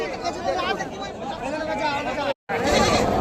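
Goats and sheep bleat at a busy weekly livestock market at a bamboo haat, their calls mixed into constant crowd chatter and someone talking close by, with a brief silent gap near the end.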